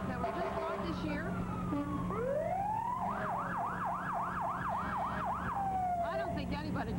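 Fire engine sirens wail and yelp through a Mardi Gras parade in Barstow, including brand-new engines, with a rising wail giving way to rapid warbling sweeps over a steady horn-like drone, loud and close, while people talk nearby.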